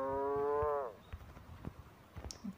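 A cow in the Deeeer Simulator video game gives one loud, sustained moo that ends in a downward slide. Quieter scattered game noises and light clicks follow.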